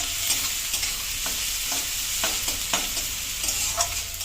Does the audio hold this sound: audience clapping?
no